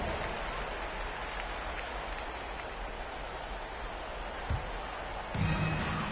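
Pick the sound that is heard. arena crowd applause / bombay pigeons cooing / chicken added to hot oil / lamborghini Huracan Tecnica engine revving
arena crowd applause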